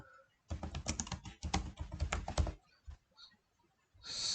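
Fast clattering keystrokes on a computer keyboard come in a dense two-second burst, followed by a pause, a single tap and then a brief final rustle, all close and fairly quiet.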